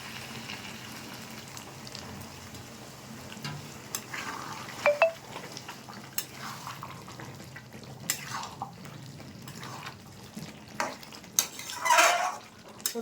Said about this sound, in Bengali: এবার আমি একটু জল দেবো, অল্প করে জল দেবো